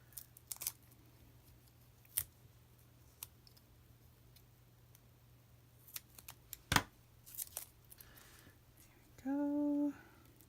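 Material being cut down to size with scattered sharp snips and clicks spaced irregularly over a quiet background, ending with a short buzzing tone near the end.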